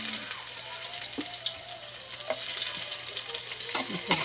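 Garlic sautés in a little oil in a pan for pork sinigang, giving a steady bright sizzle with occasional utensil scrapes and taps, close by and with no talking.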